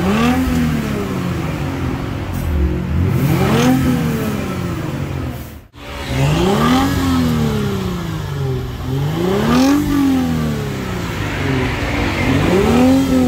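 Lexus IS250 fitted with an FGK Legalis Super R exhaust, revving repeatedly in loud rising and falling sweeps, with a brief cut near the middle of the run.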